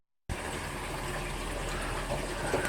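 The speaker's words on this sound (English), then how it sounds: "You can see all that water just running down the overflow." Water from a Jebao DCP 5000 DC aquarium pump pours steadily down the tank overflow, a close, continuous rushing gush that starts abruptly after a brief silence and holds an even level throughout.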